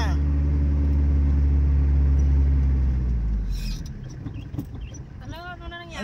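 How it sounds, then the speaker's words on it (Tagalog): A car engine drones and revs loudly during a driving practice session, its low rumble easing off after a few seconds as voices talk inside the car. "Gagalit na makina."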